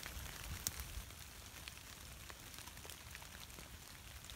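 Steady rain patters on a surface outdoors at dusk, a continuous soft hiss dotted with scattered louder drops, with no voices.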